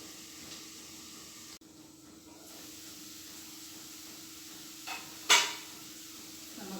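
Chopped onions for a soybean curry sizzle in a pan with a steady, quiet hiss while being stirred, with one brief metallic clink of the spoon against the pan.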